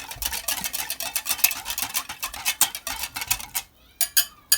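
A whisk clatters rapidly against a bowl while mixing sugar, oyster sauce and soy sauce, a fast run of close, sharp ticking strokes that pauses briefly near the end, then resumes for a few strokes.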